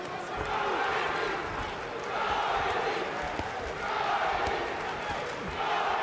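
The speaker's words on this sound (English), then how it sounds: "It would seem there's a bit of a chant for him here in Glasgow." Crowd at a boxing match in Glasgow during the 2014 Commonwealth Games, chanting for a fighter, the massed voices rising and falling in broad swells over a continuous arena murmur.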